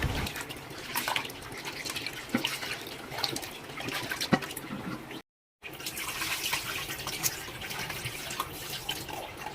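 Chukkakura leaves are rinsed in water, with soft splashing, trickling and occasional drips close by and fairly quiet, broken by a brief gap of silence midway.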